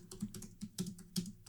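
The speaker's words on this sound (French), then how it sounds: "Là, il tape sur son clavier." Quick irregular clicks of typing on a computer keyboard in a film scene from Les Tuche 5, a burst of several keystrokes heard alone and fairly close.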